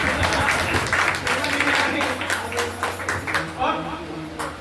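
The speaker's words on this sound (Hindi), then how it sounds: "थोड़ी ताली वाली बजा दीजिए।" Scattered audience clapping at a Hindi poetry gathering in Urai, uneven bursts of claps that thin out, with a voice talking over and after them.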